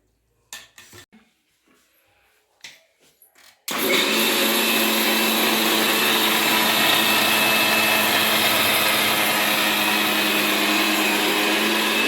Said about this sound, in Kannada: ಈಗ ಮಿಕ್ಸಿ ಜಾರ್ನಲ್ಲಿ ಹಾಕಿ ರುಬ್ಬಿ ಎತ್ತಿಟ್ಕೊಂಬಿಡೋಣ